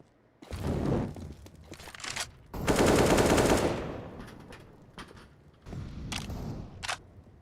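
AK-47 (Kalashnikov) rifle fire in a Counter-Strike esports match, with several short automatic bursts, one long sustained burst in the middle, and scattered single shots afterward, close and fairly loud.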